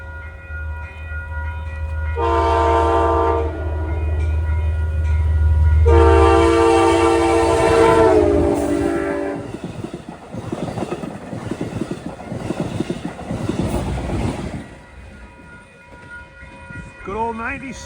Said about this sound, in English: That cab car horn on that last train, that was, well, even sounded better than a Silverliner 4